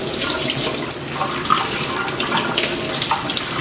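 Strawberries are rinsed under a running kitchen tap, a continuous close hiss and splatter of water with slight shifts as the fruit is moved, no voices.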